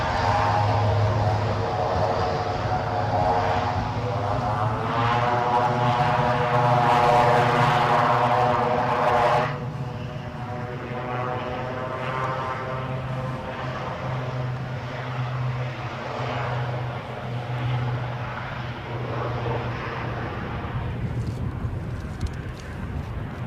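An aircraft close by at Newcastle International airport, a loud broad engine roar with a rising whine that eases after about nine seconds into a steadier, slightly quieter drone, with no talking.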